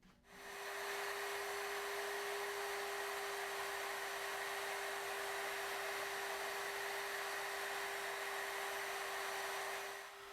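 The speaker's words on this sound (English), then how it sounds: "we're going to go ahead and cut our through mortises in our legs" A multi-router cuts through mortises in wooden table legs, giving a steady, loud high-speed motor whine with a constant tone and broadband cutting hiss that holds evenly for about ten seconds, with no talking.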